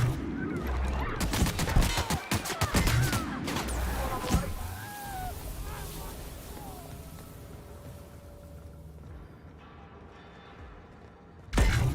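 Enemy gunfire in The Outer Worlds video game, loud bursts of rapid shots crowding the first few seconds, then a quieter stretch before one more sharp blast at the end.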